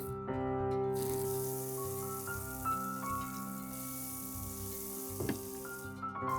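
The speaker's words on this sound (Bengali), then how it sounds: "বাটার দিয়ে দিচ্ছি প্যানে।" Butter sizzles in a hot pan before sandwiches are grilled, a soft, steady crackling hiss heard close up over a faint background hum, with no talking.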